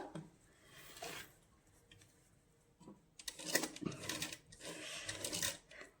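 A sewing machine stitching lace onto a party-wear dupatta gives short whirring bursts, a brief one early and longer rattling runs in the second half, close but fairly quiet, with no talk.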